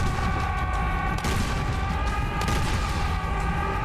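Gunfire in the first-person shooter Serious Sam 4, with sharp shots cracking over a dense, constant wash of loud game noise and combat.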